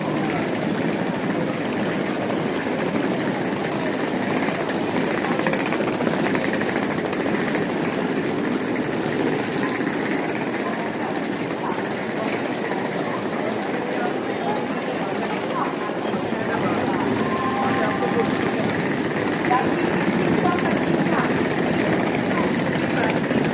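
A train rumbles at Chandigarh Junction station: a continuous, steady, moderately loud rumble with broad mechanical noise that holds evenly without breaks, and no clear talk over it.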